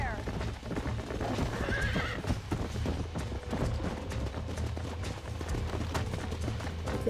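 Horse in the Red Dead video game, hooves clip-clopping in a steady galloping rhythm with a sharp whinny near the start, close and clear, while a voice talks intermittently over it.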